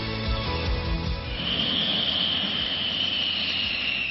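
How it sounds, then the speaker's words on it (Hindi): Rafale twin-engine fighter jet flying overhead, a loud continuous roar with a rising high whine that stays steady and close throughout, no voices. "राफेल का नाम दुनिया के सबसे ताकतवर फाइटर जेट में शामिल है।"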